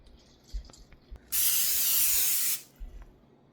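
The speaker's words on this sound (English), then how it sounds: "I'm going to heat up my pan with this oil. It's a spray" Cooking oil is sprayed onto a pan in one steady, loud hiss lasting just over a second, with faint clicks and small kitchen knocks before and after.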